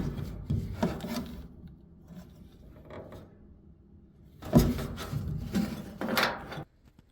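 A clothes dryer belt being worked off its pulley on a Samsung dryer during a tub wheel repair, giving close rubbing, scraping and mechanical clunks with a louder burst of rasping near the end.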